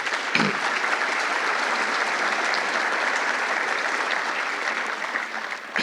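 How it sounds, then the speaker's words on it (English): At a bar swearing-in ceremony, an audience claps loudly and continuously, a full, sustained round of applause that thins slightly just before the end. "all of you deserve a huge round of applause"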